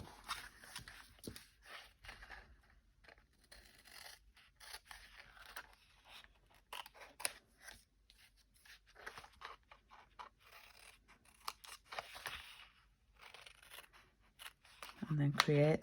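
Scissors snipping through folded paper card during card-making, a run of faint, close, crisp cuts and rustles with someone speaking quietly in the background.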